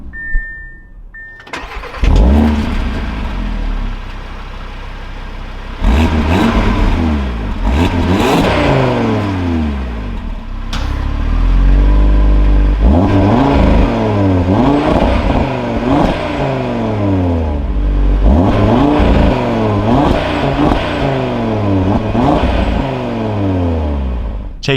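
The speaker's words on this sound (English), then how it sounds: "keeping my foot on the brake, we can go ahead and fire it up" A 2024 Audi RS3 starts up with a loud crank and catch, then the engine revs repeatedly in rising and falling sweeps before settling into a rumbling idle, heard up close from inside the car.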